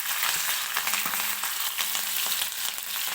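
Green chilies fry in hot oil for pithla, giving a loud, steady close-up sizzle with crackling pops and occasional stirring, and no voices.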